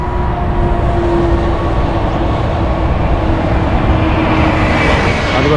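A small Western Australia train runs near a combined freeway and train station with a steady, loud rumble and hum, and a tonal whine drifts through the passage. No voices are heard.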